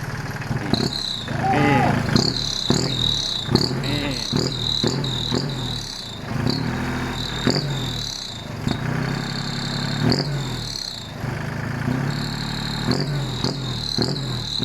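A Kubota 36 hp tractor with a modified, enlarged exhaust pipe idles in a steady, loud rumble with rhythmic pulsing throughout, joined by a high buzzing drone.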